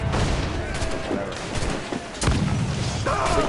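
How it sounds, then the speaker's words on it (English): Cannon fire during a naval fight in Assassin's Creed IV Black Flag: loud booming shots and crashing impacts in quick succession over a rumbling battle background. "The cannon is really the best thing for killing."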